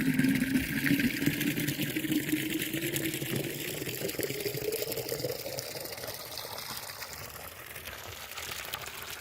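A DC solar submersible water pump pushes a steady, continuous rush of water, a close broadband gush with a faint motor hum beneath, holding even for the whole stretch without talk.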